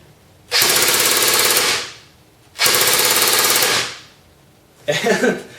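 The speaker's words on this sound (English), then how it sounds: "Now here's the rate of fire." A G&P M14 DMR airsoft gun fires full auto at a very high rate on a 9.6 volt battery. Two sustained buzzing bursts of over a second each are followed by a short third burst, close and loud, with quiet gaps between.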